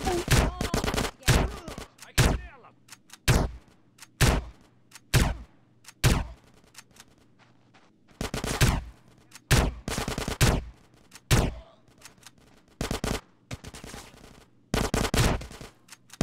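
Video game gunfire in GTA San Andreas: bursts of rapid shots and short volleys come in clusters with brief gaps, loud and up close over a low background hum.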